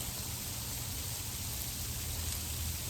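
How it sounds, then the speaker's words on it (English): Hail falls outside as a continuous, even hiss of fine pattering on surfaces, steady and moderately quiet, with no distinct single impacts and no voices. "It's more hailing than anything, I feel like."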